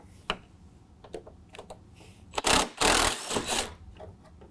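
A tool loosens 8 mm bolts holding the grille on a Ford F-150: scattered sharp ticks and clicks, then a loud burst of fast ratcheting, close up and without talk.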